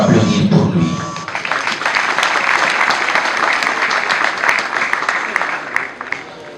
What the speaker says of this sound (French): Je vous demande de pouvoir applaudir pour lui.